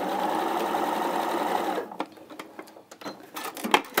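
A domestic sewing machine runs steadily while stitching quilt pieces together, then stops, leaving a few quiet handling clicks and small rustles of fabric nearby.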